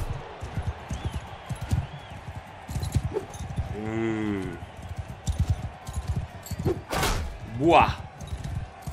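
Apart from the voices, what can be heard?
horse hooves in video game Mount & Blade II Bannerlord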